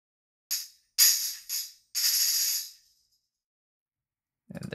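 Tambourine from a sample library, heard alone: a few bright jingly shakes and strikes, one sustained shimmering rattle, close and clean with silence between, then a brief low sound at the very end.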